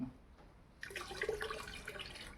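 Liquid nano nitrogen fertilizer is poured into a 200 litre barrel: after a quiet moment, a sudden splashing gush of liquid begins and runs on steadily, close and fairly soft, with no talk.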